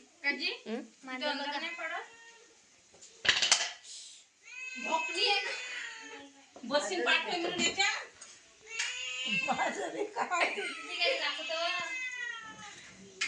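A cat meows several times in a home setting, its cries mixed in with people talking throughout.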